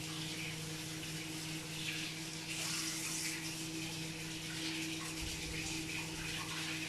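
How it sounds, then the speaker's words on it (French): Warm tap water runs steadily into a kitchen sink as a small food-decorating gadget is rinsed beneath it, a continuous even gush close by with no talking. "Je vais vite nettoyer sous l'eau tiède."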